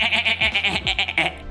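A person imitates a lamb bleating with a string of quick, wavering "baa" sounds, loud and close, in one short burst.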